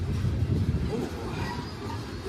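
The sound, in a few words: freight train passing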